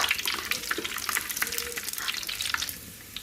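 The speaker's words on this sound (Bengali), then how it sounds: "এখন রসুন ভাজবো এটা টমেটো ভর্তার জন্য রসুনগুলো ভালো করে ভেজে নিব" Garlic cloves frying in a pan for tomato bharta, a soft close crackling sizzle with small irregular pops and spatters running through the whole short stretch, with no talk over it.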